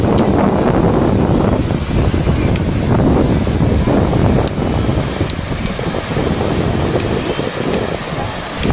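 Ethipothala waterfall roars in a loud, continuous broadband rush close to the microphone, with wind buffeting and a few faint high clicks.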